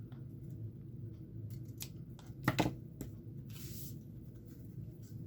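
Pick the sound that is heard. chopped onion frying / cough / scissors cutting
scissors cutting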